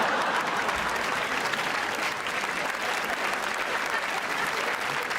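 A stand-up comedy crowd bursts into sustained applause, dense and even clapping from many hands that holds steady and fairly loud for the whole stretch.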